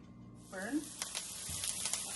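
Food sautéing in a hot pan gives a steady, close hiss and sizzle, with a brief clatter of utensil against metal, lasting only a couple of seconds.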